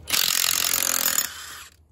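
A hand wrench ratchets bolts on an engine, producing rapid, close, steady clicking for about a second and a half before it tails off.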